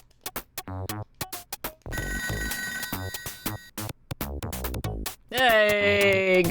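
A telephone rings in the Toejam & Earl video game, a repeated electronic trill among chiptune music and game sound effects, ending in a louder sustained tone.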